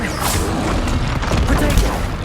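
Confringo blasting spell cast in Hogwarts Legacy, dense booming blasts and crashing impacts layered over busy combat noise, with a voice briefly heard amid the din.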